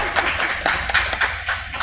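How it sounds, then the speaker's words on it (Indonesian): A small audience at a youth Catholic gathering gives a brief, scattered round of clapping, with a handful of distinct sharp claps standing out over a thin background. "Tepuk tangan dong"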